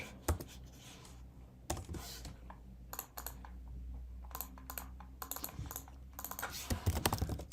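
Close, quiet typing on a computer keyboard, with irregular bursts of keystrokes and short pauses over a low background hum.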